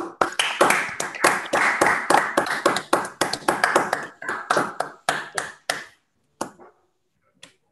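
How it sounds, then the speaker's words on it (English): Online audience applause following a mathematics talk, a few scattered claps from unmuted participants, sparse and fairly close, thinning out to isolated claps and then silence. "So now everybody can unmute themselves to give a round of applause for Dirk."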